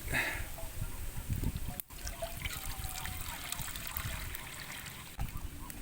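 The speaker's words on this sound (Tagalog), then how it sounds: "Lagyan natin ng tubig." Water pours and trickles steadily into a cooking pot, a soft continuous splashing stream at close range.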